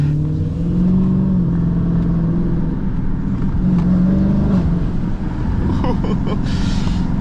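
A Dodge Challenger SRT 392 Scat Pack engine rumbles low and revs up twice, with wind buffeting the microphone and someone talking over it.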